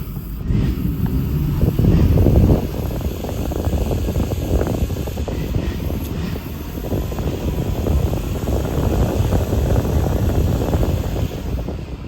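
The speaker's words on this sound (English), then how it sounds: "That's your air conditioner, your blower motor, and your defrost." The air conditioner blower motor in a 1940 Oldsmobile Business Coupe runs with a steady, loud rushing whoosh and low rumble, unbroken for twelve seconds, with no voices.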